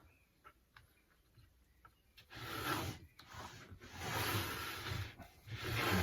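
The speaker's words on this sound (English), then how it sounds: "Now I would probably clamp this up and just take off shavings." A hand plane shaving wood on a shooting board, giving a few faint scrapes at first, then long, close rasping strokes repeated several times.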